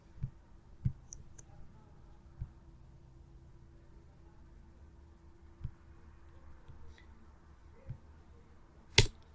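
Sparse, isolated clicks of a computer keyboard key being pressed while typing in a word processor, about six soft taps spread unevenly over a quiet room hum, the last one sharper and louder.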